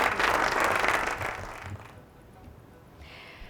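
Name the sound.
audience applause for a correct quiz answer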